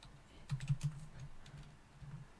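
Computer keyboard spacebar pressed in a quick cluster of soft, close clicks and thumps, then a few lighter taps after a pause, quiet and alone.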